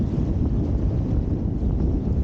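Wind roars over the microphone in a loud, constant low rumble while wing foiling upwind through a gust, with no breaks or other sounds.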